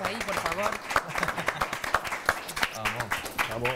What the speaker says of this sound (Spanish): Un aplauso a todos ahí, por favor.